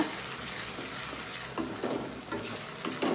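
Onions and green chillies frying in a pan, a steady soft sizzle with a few faint stirring scrapes, no voices.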